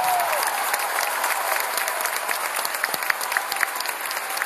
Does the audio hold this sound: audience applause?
yes